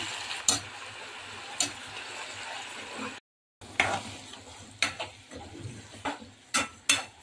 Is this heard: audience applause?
no